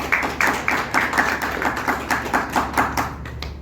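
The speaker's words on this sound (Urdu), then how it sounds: "میرے یسوع کے لیے زوردار تالیاں" Applause at a church service after an Urdu Christmas sermon, heard as a run of regular sharp claps, fairly steady and moderately loud, with no talking over it.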